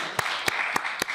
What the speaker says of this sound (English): And the first applause goes here.